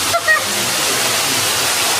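A waterfall in Guizhou's Tongren grand canyon, seen from a boat trip, gives a steady, full roar of falling water that holds evenly and close from start to finish.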